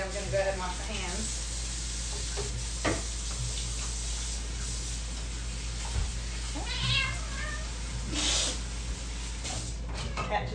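Cat meowing in a farmhouse kitchen while food sizzles in a pan, with several drawn-out meows rising over the steady frying hiss and clatter.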